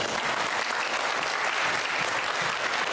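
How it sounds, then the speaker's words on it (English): An audience at a civic gathering gives a round of applause, a dense, even roar of many hands clapping at steady loudness throughout. "So give them a round of applause."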